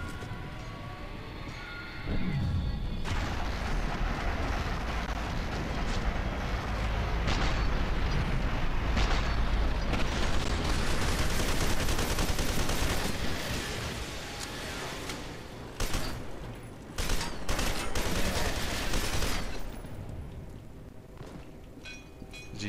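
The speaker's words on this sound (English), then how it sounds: "What has he got? A fucking laser?" In the video game F.E.A.R. 2, an enemy laser weapon fires in a loud, sustained roaring burst with crackling blasts and rumbling impacts. It fades into scattered bursts of noise near the end, with no voice over it.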